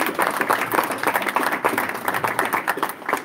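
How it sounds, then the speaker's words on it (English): Audience applause at a Martin Luther King Jr. celebration inside St. Paul Cathedral, a steady, dense wash of clapping from a large crowd, fairly loud and continuous, with no one talking over it. "Let's give another great big round of applause."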